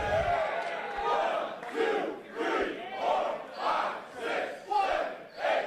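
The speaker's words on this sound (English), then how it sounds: "Did he really have to ask the crowd to count along with him?" A wrestling crowd at a hardcore independent show chants a count in unison, each loud, rhythmic shout rising and falling about once per second in a steady series of six or seven calls.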